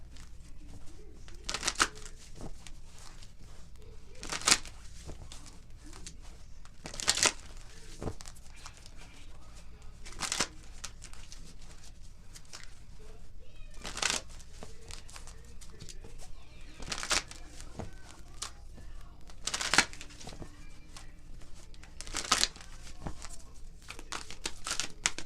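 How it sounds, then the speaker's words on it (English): Tarot cards get shuffled in soft, irregular crinkling riffles at intervals of a few seconds, quiet and close, with no voices. "If I can shuffle the cards."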